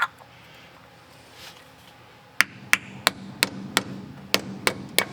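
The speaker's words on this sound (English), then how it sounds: "you can just, hammer it on like I just did" A series of sharp metallic hammer taps on a brake cap during a power disc brake install on a 1967 Pontiac Catalina, about eight blows spaced unevenly after a quiet stretch, close and crisp.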